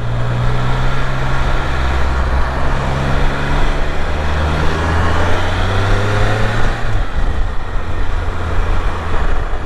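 Steady traffic rumble from a Can-Am Spyder three-wheeled motorcycle merging onto highway 130, with a droning engine tone and continuous road and wind noise close by, the engine pitch holding and then shifting as vehicles move around it.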